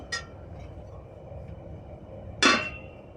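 A lid clinks down onto a pot of ash gourd set to cook for moru curry, a sharp metallic clatter near the end, with a fainter clink at the start.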